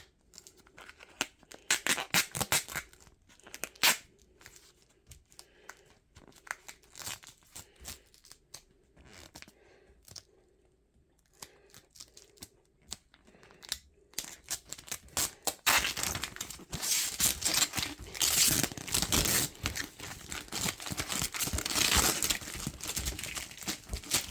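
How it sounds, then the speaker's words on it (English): Duct tape being pulled from the roll and stuck along a partly inflated bicycle inner tube, with sporadic close ripping and crinkling at first, a quiet stretch, then a long, dense, loud tearing and smoothing noise. "So I blew up the inner tube slightly and stuck duct tape along the outside of it."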